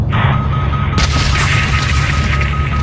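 A missile strikes an anti-aircraft battery in an action film, a loud booming blast that swells about a second in, followed by rumbling debris and crackling fire under a steady tone.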